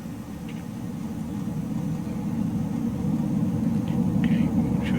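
A BAe Hawk T.Mk.1A jet in Microsoft Flight Simulator 2020 roars at full throttle with a steady, dense low rumble that slowly builds in loudness, plus a few faint higher blips.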